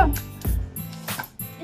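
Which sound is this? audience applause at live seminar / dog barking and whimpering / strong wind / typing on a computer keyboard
dog barking and whimpering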